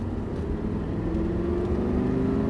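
A car accelerates on a driving-course track, heard from inside as a steady, loud engine drone with a slowly rising pitch and road noise, and no voices.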